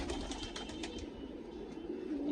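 Fancier-kept pigeons in Hasanpur flutter and shuffle nearby, with a few soft wing flaps and faint cooing over low outdoor background noise.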